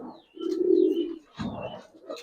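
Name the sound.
Giribaz pigeons cooing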